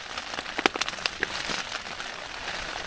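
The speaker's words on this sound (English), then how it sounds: "Listen to this rain." Rain pattering on a camping tent on a hillside in the Peak District, with scattered crisp drops and crackles over a soft continuous hiss, close and fairly quiet.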